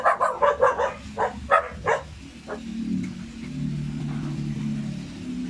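A dog barks about eight times in a fast, loud, close sequence, then falls quiet while a steady engine rumble, like a passing or idling vehicle, carries on.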